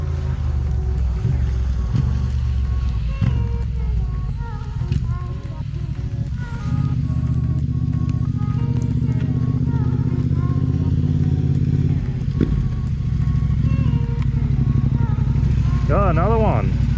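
Motorcycle engine rumbling steadily as it approaches a rainy bush campsite in the Watagans, a continuous low drone lasting throughout with a rising rev near the end, while someone talks over it.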